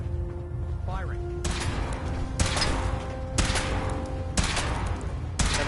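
Weapon fire from a Fallout 4 power armor suit test: four heavy, loud shots spaced about a second apart, each ringing out with a long tail, over faint game ambience and a brief tonal signal.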